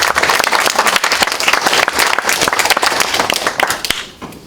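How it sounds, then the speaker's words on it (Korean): Loud, dense applause from a lecture audience at a commemorative talk, many people clapping close by in a sustained burst that fades out at the end. "학생 여러분들 위해서 박수를 한번 다시 한번 부탁드립니다"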